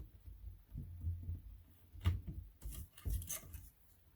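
A blade slicing through a soft, warm polymer clay kaleidoscope cane: quiet, close, soft pressing and scraping sounds in several short strokes with faint rubbing between them, with no voices.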